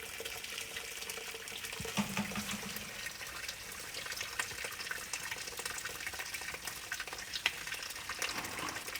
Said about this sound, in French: Il faut jouer un peu avec le robinet.